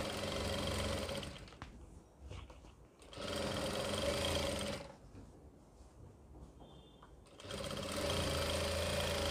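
A sewing machine stitching seams on an Afghani salwar, running in three steady, humming bursts with brief pauses between them, close by and with no voices.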